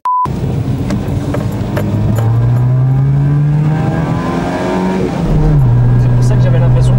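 A Renault Super 5 Campus with a holed exhaust line accelerates, its loud, raspy engine note climbing steadily through the revs and dropping briefly at a gear change before pulling again, up close with faint talk underneath.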